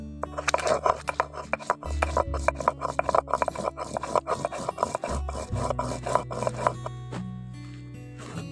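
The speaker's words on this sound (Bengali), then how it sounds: "শুকনো লঙ্কা বেটে নিচ্ছি।" Dried red chillies are ground into a spice paste by hand on a stone, giving a rapid series of rough, rasping back-and-forth scrapes with a steady rhythm, close and fairly loud.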